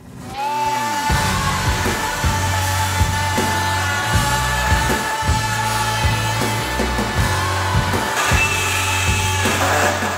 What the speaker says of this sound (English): we're going to give the multi-tool a go with a new blade, see how well it gets on